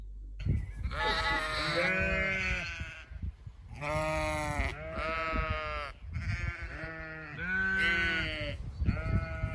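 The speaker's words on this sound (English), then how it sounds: "every sheep has a different bleat as well as a different personality?" Sheep bleat several times in a row, loud and close, with long wavering cries separated by short pauses and some overlapping calls.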